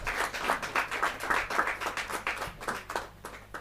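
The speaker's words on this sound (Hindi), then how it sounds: "जोरदार ताली के साथ" Audience applause at a Hindi poetry recital (kavi sammelan), a dense, steady burst of many hands clapping together, fairly loud and sustained with slight swells, no voices over it.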